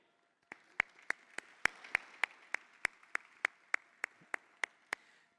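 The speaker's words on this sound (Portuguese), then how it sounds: "conto com as palmas de todos vocês para recebermos Lúcia Leico" A conference audience claps to welcome a panel chair to the stage. The claps come as a steady series of sharp, evenly spaced beats, about three per second, in a rhythmic pattern against a quiet room.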